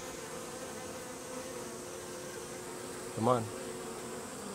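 Honey bees buzz in a soft, steady drone at the hive entrance while a recombined Japonica swarm settles, with one louder bee passing close by and a voice speaking briefly.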